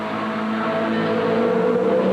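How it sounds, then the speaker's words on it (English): A Le Mans race car with a clutch problem, 1988, being steered into the pits: a steady engine drone with a rising tonal whine, moderately loud and continuous, with no voices. "his car is steered into the pits again with a clutch problem"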